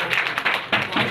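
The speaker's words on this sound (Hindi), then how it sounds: "भाई जरा ध्यान दें और जोरदार तालियां बजाएं।" Audience applause at an Indian patriotic poetry recital: a dense, steady burst of many hands clapping close by, surging louder twice within a second, no voice over it.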